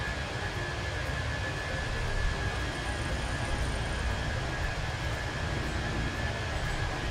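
Airliner jet engines roaring at full takeoff thrust in a flight simulator game, departing Orlando: a steady, loud broadband rumble with a faint high whine, continuous throughout with no talk.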